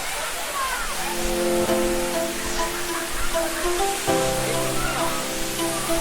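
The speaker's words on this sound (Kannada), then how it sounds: "ನೋಡಿ ಇದೇ ನೋಡಿ ನಿಮ್ಮ ಸಿರಿಮನೆ ಜಲಪಾತ" Rushing water of Sirimane Falls, also called Kigga Falls, near Sringeri in Chikmagalur, a steady broadband roar heard close by, with people talking over it and tourists around a wooden viewing platform.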